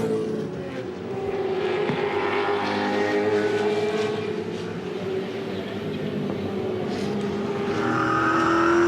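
Race cars from the 2007 V8 Supercars series at the Darwin circuit roar past in a continuous loud engine drone, the pitch rising and falling as cars brake hard and accelerate.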